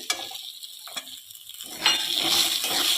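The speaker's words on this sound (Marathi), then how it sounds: "आता अर्धा मिनिटभर चांगलं तेलात परतून घेऊया" Grated red pumpkin sautéed in oil with turmeric and red chili powder: a couple of brief stirring scrapes, then a louder steady sizzle rising near the end, close up and without talk.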